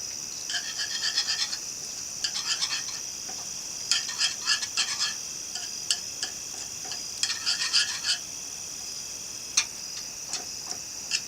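Spoon stirring sour cream into stroganoff in a pot, quick clustered ticking scrapes in short bursts separated by pauses, fairly faint over a steady hum with no talking.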